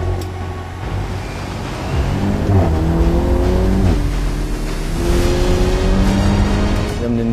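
A Volkswagen Golf R on the Nürburgring Nordschleife revs up through several gear changes, its engine pitch climbing and dropping repeatedly as it accelerates hard at close range.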